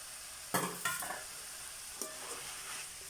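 Kothu chapathi pieces are stirred in a frying pan with curry leaves, giving a few scraping strokes over a soft, steady sizzle.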